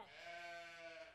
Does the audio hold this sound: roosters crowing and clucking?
no